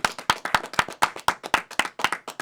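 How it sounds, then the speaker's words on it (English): A small group at a podcast taping claps for a guest: a quick, steady run of sharp, close handclaps for a couple of seconds with no talking. "Let's clap it up for Caddy Oso"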